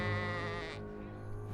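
A single sheep bleats loudly and close, a drawn-out wavering cry fading into quieter barnyard background, heard among livestock placed at a Nevada atomic bomb test site.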